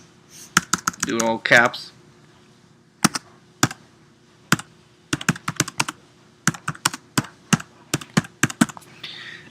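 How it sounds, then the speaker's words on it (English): Rapid keystrokes on a computer keyboard come in close, irregular bursts, with a brief spoken phrase near the start and sparse clicks between runs of typing. "I'm going to click and I'm going to type my text."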